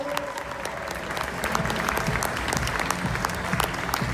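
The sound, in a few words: audience applause welcoming a driver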